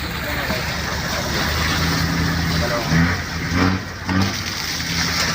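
A boat engine drones steadily beneath wind and splashing water, with people talking nearby over the motor.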